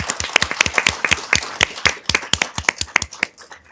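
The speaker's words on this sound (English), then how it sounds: "So let's give him a round of applause." Audience clapping at a city council meeting, sharp individual claps from a small group ringing out close and distinct, thinning toward the end.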